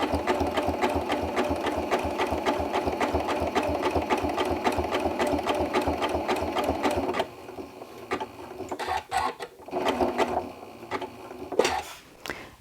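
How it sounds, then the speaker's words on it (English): A sewing machine runs a zigzag stitch along the edge of a fabric applique on a wall hanging, with a fast steady mechanical chatter for about seven seconds, then stops and starts in shorter, slower bursts with fabric shuffling between. "When you're going and doing the zigzag stitches to finish the edge, you want to take it slow."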